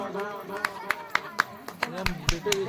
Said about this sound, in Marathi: प्रोत्साहन वाढवण्यासाठी एक जोरदार टाळ्या वाजवा